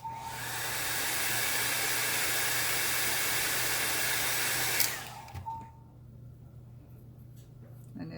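A hair dryer blows loudly and steadily over alcohol ink artwork, then clicks off, leaving quiet room tone with faint handling.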